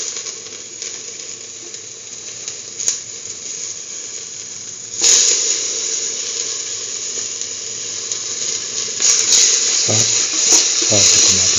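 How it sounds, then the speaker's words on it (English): Tomato pieces sautéing in a pan with a lentil-and-egg curry mixture, a steady close hiss that swells louder partway through, with a few clinks of stirring and a faint voice in the background. "saut the tomato pieces with the rest of the mixture"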